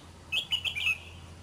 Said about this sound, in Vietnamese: Con này thì nghi là chim sổng anh ạ.